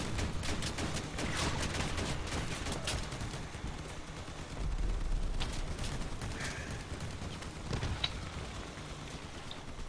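Rapid cannon and machine gun fire from armored vehicles in the Crossout vehicular combat game, a dense, continuous barrage of overlapping shots and impacts lasting throughout, fairly loud and steady.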